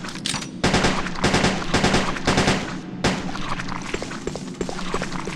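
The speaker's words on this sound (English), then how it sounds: "Start by shooting these tentacles with the pistol" Pistol shots fire at tentacles in the video game Resident Evil Code Veronica. Loud, sharp reports come in quick succession with dense crackling gunfire over a steady game background, and no voices.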